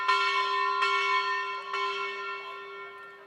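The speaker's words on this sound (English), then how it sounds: "as the bell keeps ringing, we are now officially listed." Bell ringing at a stock exchange listing ceremony: clear, sustained ringing tone with three sharp strikes spaced under a second apart, each ring decaying slowly and loudly up close.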